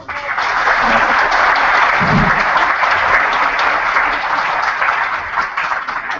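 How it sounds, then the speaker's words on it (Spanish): Audience applause at a university ceremony, loud and steady, a dense crowd clapping continuously for about six seconds without pause. "Un gran aplauso."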